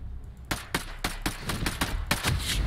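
Rapid bursts of gunfire from squad members firing on enemy positions in the tactical shooter Ghost Recon Breakpoint, about nine sharp shots in a quick uneven rhythm, loud and close, with no voices.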